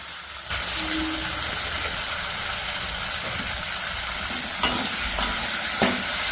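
Tomatoes fry in a pan while being stirred, with a steady, loud sizzle throughout and occasional scraping knocks from the stirring.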